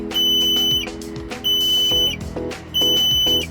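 Overload warning signal on a PALFINGER marine crane, a loud piercing electronic beep pulsing in three bursts with short gaps, mechanical clatter underneath.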